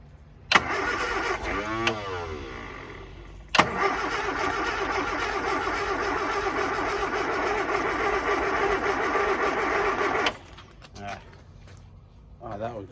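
A Scamp engine with a poor choke being cranked, with sharp starts, a whirring crank, then a rough running spell of several seconds that dies back to quiet, with brief knocks after.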